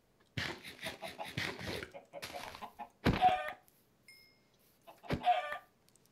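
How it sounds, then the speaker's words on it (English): Chickens cluck in a Minecraft game, short bursts of blocky game sound with a few distinct cluck-like squawks, close and moderately loud with quiet gaps between. "Kill some chickens."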